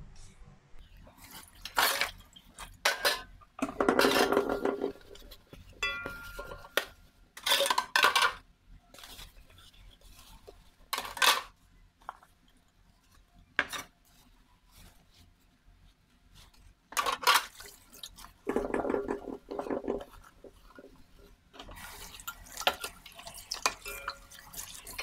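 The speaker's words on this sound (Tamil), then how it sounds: "இப்போ வந்து நான் பாத்திரம்லாம் விளக்கிறேன்" Dishes, pots and utensils are washed in a kitchen sink, with repeated clatters of metal and crockery and bursts of running tap water. The sounds come in irregular, close bouts separated by quieter gaps.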